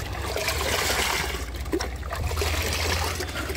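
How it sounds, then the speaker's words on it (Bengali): Liquid compost tea runs and gurgles as it mixes into a 1000-liter tank of water, a continuous close trickling wash with no pauses. "এখন এই যে 1000 লিটার পানিতে মিশিয়ে নিচ্ছি"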